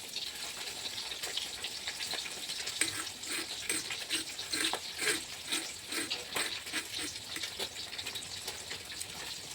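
Pieces of fish fry in hot oil in a home kitchen, giving a continuous bright sizzle and crackle with small popping bursts, steady and moderately close.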